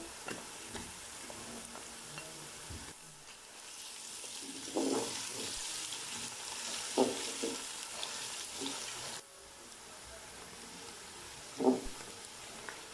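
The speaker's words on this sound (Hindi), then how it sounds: "अब मैं इसमें लहसुन और अदरक का पेस्ट डाल दूंगा।" Garlic and ginger paste sizzles as it fries in oil with onions, the hiss rising and falling, with several sharp knocks and scrapes of a spoon stirring the pan.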